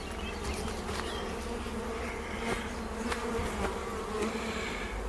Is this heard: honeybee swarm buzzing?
yes